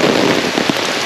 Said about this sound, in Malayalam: ഈ തുലാവർഷത്തിലെ മഴ ആദ്യമായിട്ട് കിട്ടാണ്